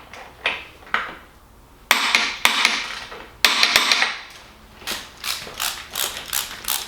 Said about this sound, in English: Now we'll tighten it up, torque it down.